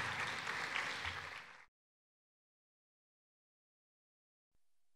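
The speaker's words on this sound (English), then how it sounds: "Sincere applause, Doctor." Gala audience applauding at a college scholars' awards evening, a broad burst of clapping that runs about a second and a half, then cuts off abruptly into silence.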